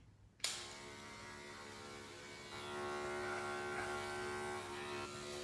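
Electric hair clippers run over a comb during a short men's haircut, giving a steady, close mechanical buzz that starts abruptly and holds throughout, swelling slightly louder partway through.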